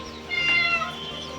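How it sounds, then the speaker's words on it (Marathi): A pet cat gives a single clear, close meow lasting under a second while being given milk in a home, with a steady low background hum. "तर चला मनी माऊला दूध देऊ आपण आता"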